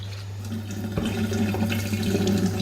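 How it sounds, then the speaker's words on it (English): Rice being rinsed in water, with a close splashing and swishing over a running tap and a steady low hum, continuous for a few seconds without speech. "I personally wash my rice"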